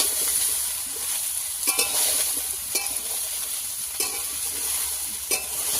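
Vegetables with five-spice sizzle steadily in hot oil in a pan, with a few sharp scrapes and clanks as a utensil stirs them.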